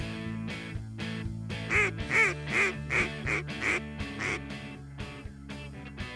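Mallard duck quacking during a duck hunt over a Mojo spinning decoy in Arkansas, a run of loud, close quacks in a rhythmic series mid-clip, with sharper calls before and after.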